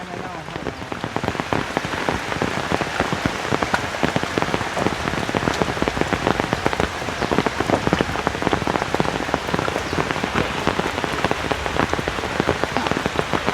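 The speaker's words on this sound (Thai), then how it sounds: "พี่น้องมันฝนตก ยืนอยู่ในห่มนี่แหละ" Steady rain pattering densely on a surface outdoors near a hut under construction, continuous close drops throughout with no clear voices.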